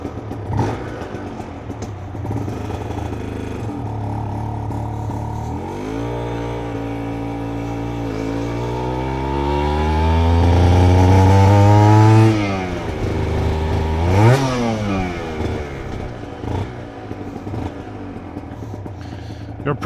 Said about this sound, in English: You're probably gonna hear a lot of stuttering because the bike is just not adjusted right.